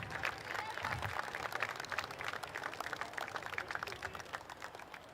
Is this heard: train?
no